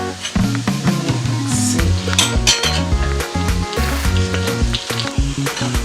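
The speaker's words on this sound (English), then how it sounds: "Just want to allow it to still fry for 2 minutes" Chin chin dough fries in hot oil with a loud, steady sizzle, punctuated by occasional metallic clinks of a utensil against the pan.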